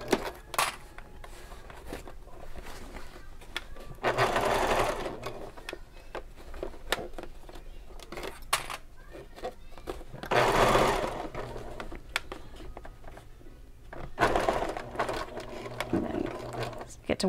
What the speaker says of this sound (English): And then I start sewing straight across.